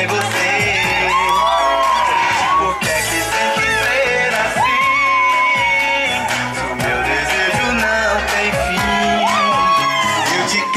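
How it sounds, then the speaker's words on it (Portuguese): A crowd gathered for Vilma in Vila Ré cheers, whoops and shouts over loud music playing throughout, with no distinct clapping standing out from the steady, busy din. "Uma salva de palmas pra ela, pessoal."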